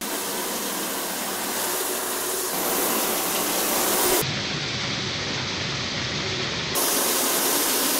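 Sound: electric pressure washer AR3 spraying with conical tip

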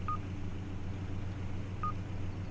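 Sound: beeping sound signal from a seismic vibrator scanner in a video game

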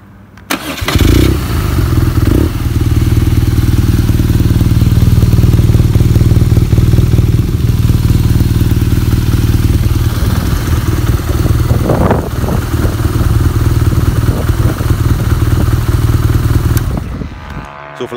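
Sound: motorcycle engine running

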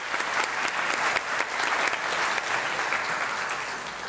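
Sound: audience applause at a senior walk ceremony

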